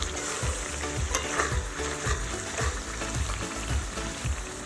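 Ground spices, including chilli powder, frying in oil for a dhaba-style chicken karahi, a steady dense sizzle with rhythmic scrapes and knocks of a spoon stirring in the pan, close and continuous.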